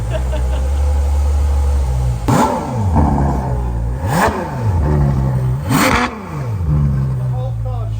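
An EcoBoost car revs hard three times, each engine surge rising and dropping back, loud and close, while people talk over it.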